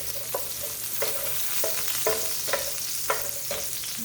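Ginger sizzles in a pan of goat curry sauce, with a steady frying hiss and a regular stirring scrape about every half second, close and fairly quiet.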